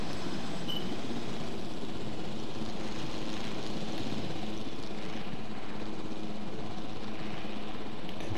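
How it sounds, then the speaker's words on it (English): Helicopter flying over a park island in the video game Jurassic World Evolution, a steady, dense rotor and engine roar that holds constant throughout with no talking. "We're taking the chopper."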